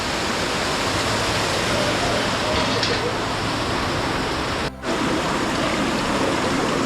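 Water at Bhagsu Nag waterfall rushes in a dense, constant roar, loud and close, broken by one brief dip near the end.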